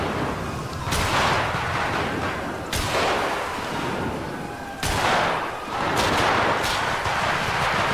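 Gunfire from a helicopter over a house in the GTA V roleplay game. Several heavy, booming shots crack out at irregular intervals, each with a rumbling tail, over a constant background drone.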